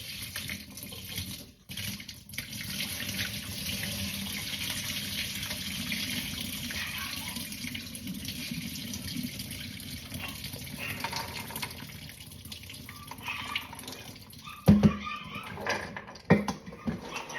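Cold tap water runs steadily over pinto beans being rinsed in a sink, a continuous splashing flow with a few louder clunks and splashes near the end.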